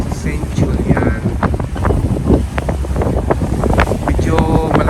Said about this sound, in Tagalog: Medyo malakas ng hangin, malakas ng alon.